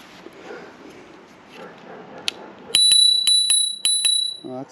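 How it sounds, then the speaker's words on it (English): The handlebar bell on a Hitway BK6 e-bike rings several times in quick succession, sharp and close, after a few seconds of quiet room noise. "There's a bell there."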